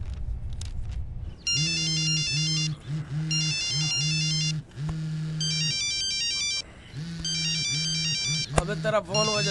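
A melodic phone ringtone plays in repeated bursts, loud and close, with brief gaps between phrases; a voice speaks over it and there is a clatter at the end.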